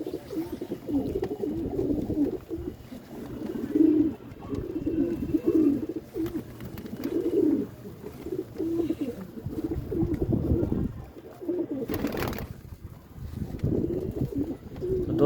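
Pigeons cooing steadily in a home loft during rainy, windy weather, with repeated low rounded coos layered close together throughout and a brief burst of wind noise near the end.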